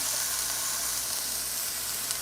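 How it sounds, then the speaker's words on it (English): Steady, close sizzling of onions and peppers frying in a hot pot, a continuous crackling hiss with no voices. "Heard that sizzle? One of my favorite sounds."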